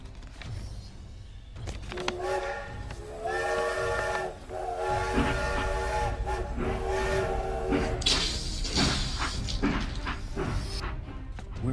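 An animated train runs along with a hissing steam whistle, sustained tonal blasts and rushing hiss over a rumbling rail noise, loud and close throughout.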